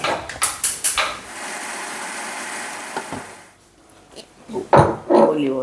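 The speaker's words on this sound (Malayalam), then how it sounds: "ഇനി നമുക്കിത് മിക്സി ശരിക്കും അരച്ചെടുക്കാം" An electric mixie grinds soaked dosa batter with water added, starting with a few sharp clanks before a steady whirring motor drone, then stopping into rattles and knocks of the jar being handled.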